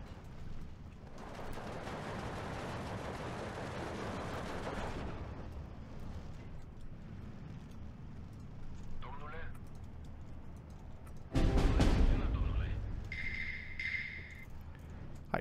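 Gunfire and explosions from the WWII strategy video game Steel Division 2 rumble through a steady battle din, with a heavy booming burst near the end, while a player talks over it.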